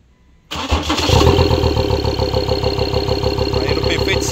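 A 2013 Ford Ranger engine cranks and catches at a light touch of the key, then settles into a steady, loud, close idle with a rhythmic mechanical pulse.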